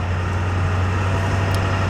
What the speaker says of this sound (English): As you can tell, I'm driving the big loud F-250